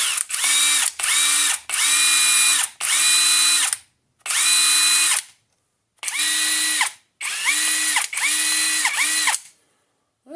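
Cordless DeWalt DCF887 quarter-inch impact driver, an AliExpress unit on a small battery, whirring in repeated trigger pulls with short pauses between, loud and close with no talking.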